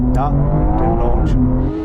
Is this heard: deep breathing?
no